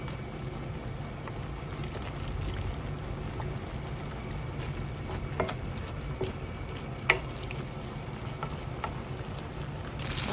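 A pan of pancit canton sizzles and is stirred, a steady close frying hiss with soft scraping and a few sharp clicks, and no talking over it.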